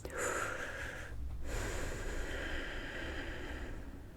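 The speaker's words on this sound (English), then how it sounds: "Let's take a deep breath to relax" A slow, deep breath taken to relax, drawn in as a long airy inhale and let out in a breathy exhale, close and steady with no talking.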